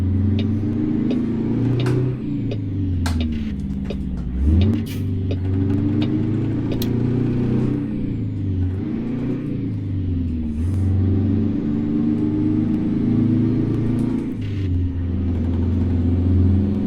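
A diesel truck engine in American Truck Simulator, a Needlenose with a Spicer 4x4 auxiliary hauling in California, drones loudly and steadily while climbing uphill, its pitch rising and dropping through gear changes with no voices.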